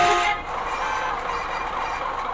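A short, loud horn blast from a Hino truck in the bus simulator game BUSSID quickly cuts off, leaving a steady engine hum underneath.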